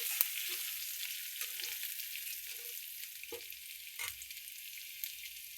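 Ginger garlic paste fries slowly in plenty of oil, giving a continuous soft sizzle with a few faint stirring scrapes and clicks, close by and with no voices.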